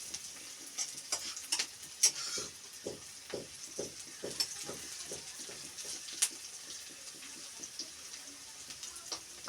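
Onions frying in a pan for a shaluk stalk (water lily stem) dish, with repeated stirring scrapes and soft clatters over a steady low sizzle, close by and moderately loud, no talking.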